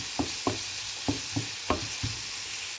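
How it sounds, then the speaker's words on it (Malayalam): Half a spoon of turmeric powder sautéed in oil, a soft steady sizzle under six evenly spaced taps and scrapes of a spoon stirring the pan, close and moderate in level, with no talking. "ഇനി അതൊന്ന് എണ്ണയിൽ വഴറ്റിയെടുക്കാം"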